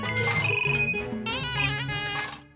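Electronic melodic phone ringtone in a domestic sitcom setting, a bright repeating chirpy tune that plays loudly and then fades out near the end.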